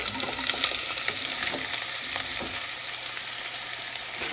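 Diced onions drop into shimmering hot vegetable oil and fry with a steady, dense sizzle and soft crackling, heard close and alone.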